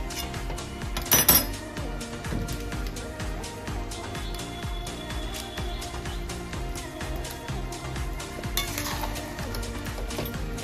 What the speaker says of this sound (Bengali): আর মিট মশলা দিয়ে মাংসটাকে আবার মাখিয়ে নেবো কড়ার মধ্যে, আর খুন্তি দিয়ে নাড়াচাড়া করে দেবো।